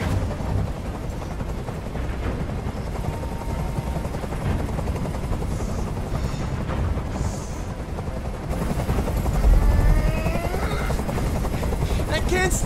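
A helicopter from the video game Detroit: Become Human drones loudly with a low, steady rotor thrum, joined by bursts of gunfire and a swell of intensity near the end.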